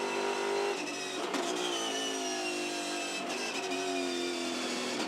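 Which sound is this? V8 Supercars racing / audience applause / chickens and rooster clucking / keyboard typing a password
V8 Supercars racing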